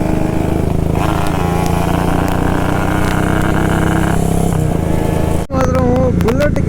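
A Yamaha RX135 motorcycle on a night road trip, engine buzzing steadily and loudly up close, then a short break and a revving rise as it pulls away after a gear change.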